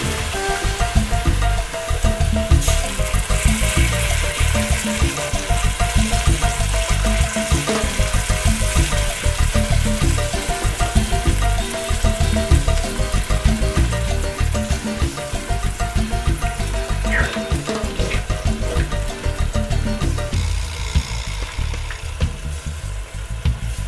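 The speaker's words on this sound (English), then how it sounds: "pour in your passata." Passata poured into a pan of fried herbs, onions and garlic for lasagna sauce, a continuous wet sizzle and gurgle with scattered clinks and scrapes, steady and close for the whole stretch, no voices.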